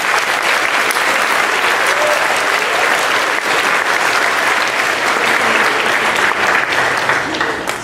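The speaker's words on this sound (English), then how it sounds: "How about a round of applause for Dwayne?" A dense, steady wash of audience applause fills a spring band concert hall, loud and continuous throughout with no breaks.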